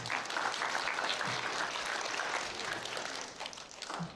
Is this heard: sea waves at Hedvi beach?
no